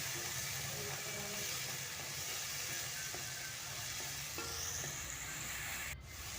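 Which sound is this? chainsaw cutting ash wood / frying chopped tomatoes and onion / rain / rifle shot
frying chopped tomatoes and onion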